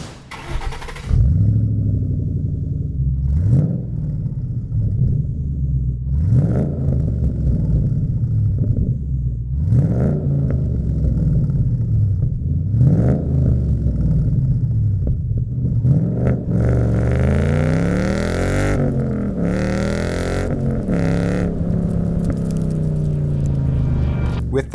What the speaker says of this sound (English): Adding a Pypes exhaust to your ride is a great way to add sound, durability, and horsepower.